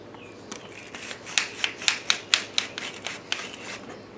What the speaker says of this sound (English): grab your battery brush or a piece of sandpaper and clean out all the corrosion